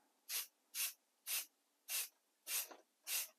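Six short, soft bursts of aerosol spray paint lightly misting the base of model railway car walls, evenly spaced, each a brief airy hiss with quiet gaps in between.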